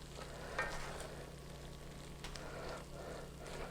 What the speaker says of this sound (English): We're going to give it a quick stir, kind of move things around.